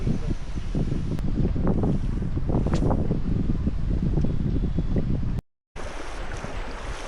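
River water rushing past rocks in a rocky fishing spot in Tamil Nadu, a loud, steady wash of flowing water with gusty wind buffeting the microphone, briefly cutting out near the end before resuming.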